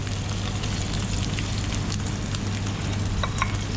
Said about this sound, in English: we're going to add a little bit of thyme